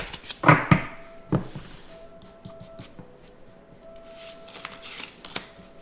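Tarot cards from a Dark Night of the Soul deck are shuffled in several quick riffling bursts, with sharp taps and thunks between them, close and fairly loud, with no talking.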